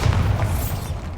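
In the video game Hogwarts Legacy, the Bombarda spell sets off an explosion, heard as a short, heavy, rumbling boom that fades over about a second, with no talk.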